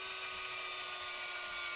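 A small drill bores into a resin model kit to make a pinning hole, giving a steady high-pitched whine that stays constant throughout, close and alone with no talk.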